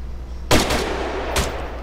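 Gunfire in a war video game, heard as two separate loud shots about a second apart, each with a short echoing decay over a low background rumble.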